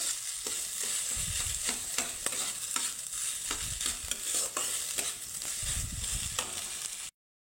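Spiced potato masala for tomato-and-flattened-rice kachori is stirred and fried in a pan, a steady close sizzle broken by repeated scraping strokes of the spoon, with no talking.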